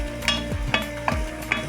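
Lardons frying in a pan are stirred with a steady sizzle, and four sharp utensil scrapes land about every half second.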